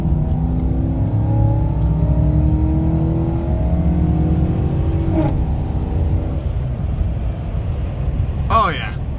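A 2014 GMC Sierra pickup engine revving with a Pedal Commander throttle controller fitted, heard from inside the truck: loud, rising engine tones climb and fall repeatedly across the clip, with people talking over it.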